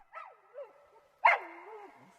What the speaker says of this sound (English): A shrill barking came from one of them